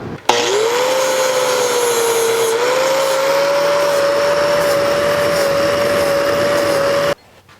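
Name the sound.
grinder grinding down welds on metal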